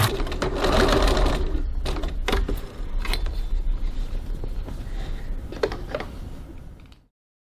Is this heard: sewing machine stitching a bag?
yes